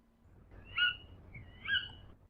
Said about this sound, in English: Tawny owl female.